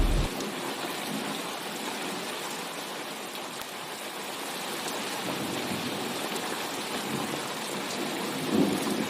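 Steady heavy rain pours down with rumbling thunder in a cartoon storm, a dense continuous hiss with a low roll underneath and no voices.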